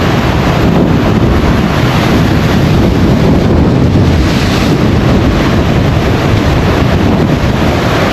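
Rough sea waves churn and crash continuously while strong hurricane wind buffets the microphone on the Jamaican coast, loud and unbroken throughout.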